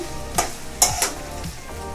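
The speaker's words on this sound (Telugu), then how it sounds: "కొద్దిగా వేయించుకుంటాము చికెన్ కానీ బాగా ఇట్లా ఒక టూ త్రీ మినిట్స్ వేయించుకున్నామండి చికెన్ వేసుకొని" Chicken pieces for a chicken iguru gravy fry in a pan with a constant close sizzle, broken by a few quick scrapes and knocks of a stirring utensil.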